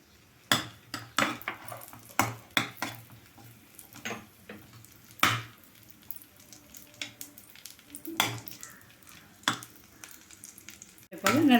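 Raisins and cashews roast in a pan for pineapple kesari, quiet frying sizzle broken by repeated sharp clinks and scrapes of a spoon stirring against the metal. There is no speech.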